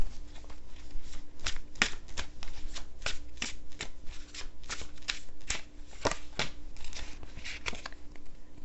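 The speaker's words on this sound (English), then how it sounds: "let me pull one more card here" A deck of tarot cards is shuffled and cut by hand, giving rapid, close crisp riffles and flicks in uneven bursts, with soft card slaps and no speech.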